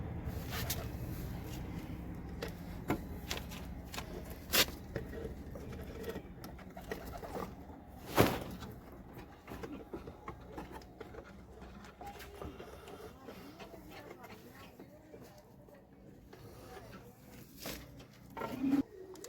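Soft, low cooing of desi red golla pigeons murmurs at close range in a loft, mixed with scattered taps, rustles and a sharper knock midway.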